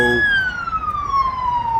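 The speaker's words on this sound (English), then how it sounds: "even them sirens there, it's going nowhere, you know." A loud emergency siren wails steadily, its tone sliding downward as it passes, with traffic rumble underneath.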